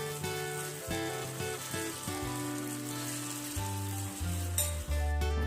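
Unniyappam batter sizzling in ghee in the wells of a paniyaram pan, a steady close crackle with soft bubbling and faint pops, no talking.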